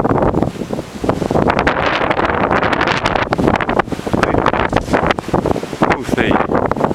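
Powerful February wind gusts in Novoekonomicheskoe roar steadily and close against the microphone, a dense, unbroken rumble and hum that barely lets up.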